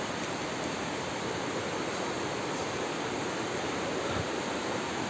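A waterfall at Kali near Pineleng roars as a steady, dense rush of falling water, loud and unbroken, with no voices over it.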